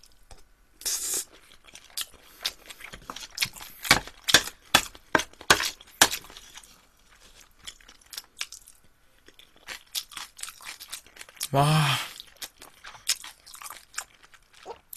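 Crunchy chewing of a soy-marinated shrimp rice bowl, close and loud, with a burst of crisp bites early on and another dense crunch near the end, with a brief exclamation.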